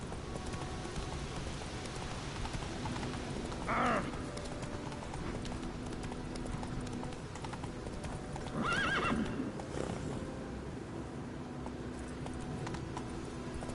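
Roach, the horse in The Witcher 3, trots on with steady hoof clip-clop and lets out two whinnies, the second longer. The sounds sit under faint game ambience and rain.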